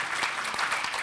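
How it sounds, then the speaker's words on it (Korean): Brief burst of crowd applause at a political policy event, dense clapping filling the short moment with no voices over it. "큰 박수 부탁드립니다"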